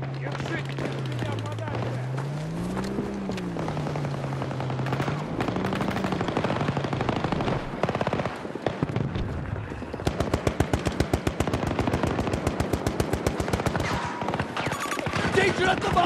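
Rapid automatic gunfire crackles in Battlefield 2042 Conquest on PS5, loud bursts of machine-gun fire rattling in quick succession over a droning engine and game voices.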